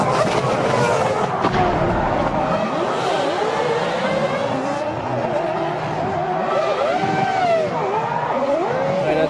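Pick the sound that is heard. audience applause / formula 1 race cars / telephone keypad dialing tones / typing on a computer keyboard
formula 1 race cars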